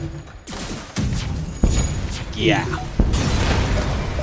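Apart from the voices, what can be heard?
missiles firing and exploding in the video game FTL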